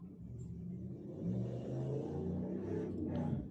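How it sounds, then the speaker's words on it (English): A car rumbles past in the background, a low engine whir swelling slightly and fading, faint and distant. "there's a car in your background"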